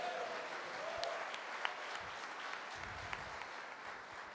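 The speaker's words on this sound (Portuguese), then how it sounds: "aplaude o Senhor Jesus" Church congregation applauding during a sermon, a faint, distant wash of steady clapping from many people, soft and even throughout.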